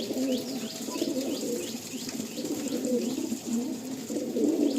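Andhra breed pigeons in a Kolkata loft coo repeatedly in soft, throaty rolls, several birds close by, with small chirps mixed in and no voices.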